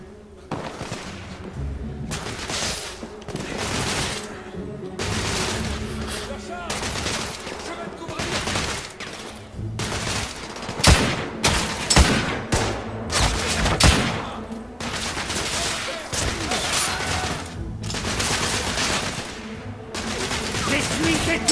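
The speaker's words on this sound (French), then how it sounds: "J'essuie ces tirs de suppression." Suppressive gunfire in the video game The Order 1886 rattles in repeated dense bursts of automatic fire and impacts, sharp cracks clustering into fusillades over about twenty seconds, with a voice talking at moments.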